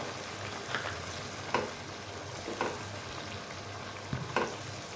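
Bitter gourd and onion fry in a pan, a steady close sizzle with a few sharp clicks and scrapes as red chillies, green chillies and tomatoes go in; no one talks.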